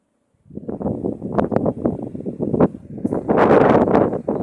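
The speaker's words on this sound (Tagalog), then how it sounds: "Lakas ang hangin." Strong wind buffets the microphone in heavy, uneven gusts, roaring loudly and nearly without pause after a brief silent start.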